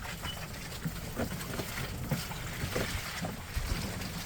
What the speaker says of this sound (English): It even sounds like a waterfall.